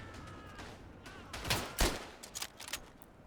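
Gunfire in the Verdun World War I shooter game: a few distant cracks, then two louder close shots with a short echoing tail, followed by scattered fainter pops over a low battlefield rumble.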